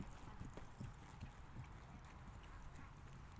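A horse's hooves clip-clop in a steady walking rhythm during a riding lesson, fairly soft and at a moderate distance, with faint background noise and no clear talk.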